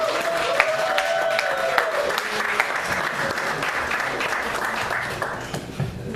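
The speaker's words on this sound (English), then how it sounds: "Give her one more round of applause." An audience applauds a poet after a spoken-word reading on a radio show, with dense sustained clapping at steady volume, cheering mixed in, and faint voices underneath.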